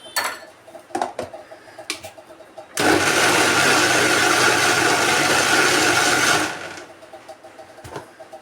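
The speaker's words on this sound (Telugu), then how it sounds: "పల్లీలు టమాటా కొత్తిమీర మిక్స్ కొడతాను అన్నమాట" A kitchen mixer grinder whirs loudly for about four seconds grinding peanuts, tomato and coriander, starting abruptly and cutting off, framed by clinks and handling noises.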